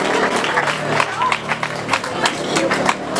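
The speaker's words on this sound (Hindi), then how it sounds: "बच्चों एक दफा फिर तालियां होनी चाहिए।" Children in an audience at a Ramadan conference clap again, scattered, uneven handclaps rising and falling, with voices in the background.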